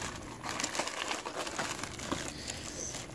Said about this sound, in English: Let's see if I get this ripping open.